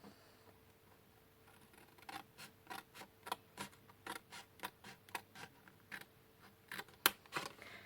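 Small scissors snip through card in a string of short, crisp cuts, quiet at first and then coming steadily about twice a second.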